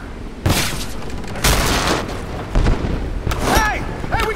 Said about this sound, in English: Firing from the side!